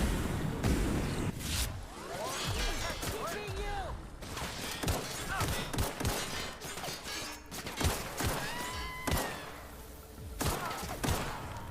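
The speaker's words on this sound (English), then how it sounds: "Get to try out the pistol" Pistol gunshots in The Outer Worlds video game: repeated sharp cracks amid chaotic combat noise with whooshes, thuds and crashes, several shots fired in irregular bursts over dense game sound, with a voice talking briefly.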